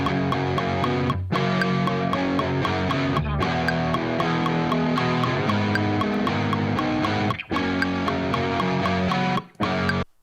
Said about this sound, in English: I'll turn on the click track so you can hear what I was doing there.